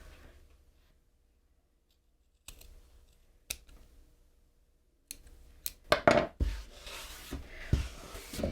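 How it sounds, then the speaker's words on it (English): Scissors snip loose threads on a small sewn fabric key fob wristlet, giving a few sparse close clicks that give way to a quicker cluster of snips and fabric rustling. "I just want to trim all the loose threads"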